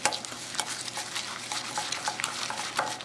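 A honey-bound hamster treat mixture is stirred in a bowl, a steady run of soft, close sticky scraping and tapping strokes with no talk.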